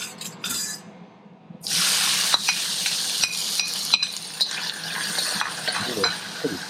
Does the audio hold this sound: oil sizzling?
yes